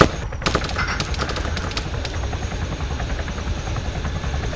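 Helicopter in the military shooter Arma 3, a steady loud rotor and engine drone filling the scene, with a burst of sharp rapid gunfire-like cracks near the start.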